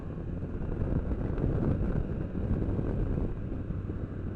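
Strong gusty wind buffets the microphone outdoors near a mountain lodge, a loud, continuous low roar swelling and easing in waves with no speech.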